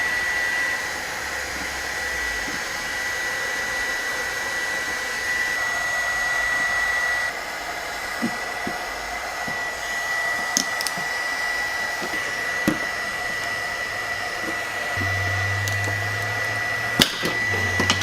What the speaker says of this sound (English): let's go ahead and see if this TACKLIFE mini heat gun can handle the job.